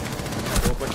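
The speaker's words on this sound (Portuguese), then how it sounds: "Era muito tiro caído ali." Rapid gunfire rattles in the Rainbow Six Siege video game during a ranked match on a favela map, a dense, loud burst of overlapping shots with no pause.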